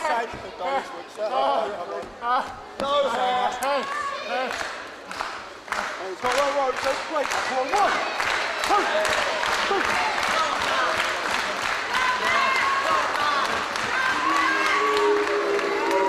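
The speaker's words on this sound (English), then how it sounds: "these fans cheering for Matt Sydel, an American, while we're in England" A wrestling crowd at a live event in England cheers and applauds loudly and continuously, with rhythmic clapping bursts early on and sustained roar, while commentators talk over it.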